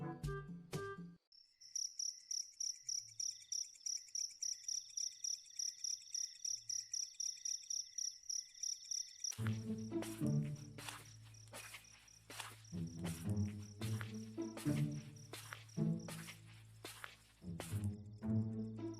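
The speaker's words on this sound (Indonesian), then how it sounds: "Tinggal suara-suara jangkrik doangan." Crickets chirp at night outside a village roadside stall: a fast, even pulsing trill alone at first, then later joined by denser overlapping chirps and layered insect calls, moderately loud and close.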